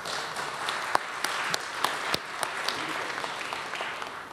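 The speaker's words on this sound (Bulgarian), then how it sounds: "ще ви моля да дадем ни аплодисменти за тези хора" Audience applause at an awards ceremony honoring worthy Bulgarians, a steady, moderately loud wash of many hands clapping with a few sharper individual claps standing out, no voices.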